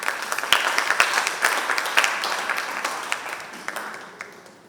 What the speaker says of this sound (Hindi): एक बार सभी पार्टिसिपेंट्स के लिए जोरदार तालियां।